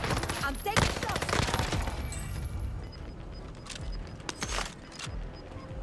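Rapid gunfire bursts in the battle royale game Warzone, sharp overlapping shots and a fusillade crackling up front, then sporadic distant pops, no talking over it.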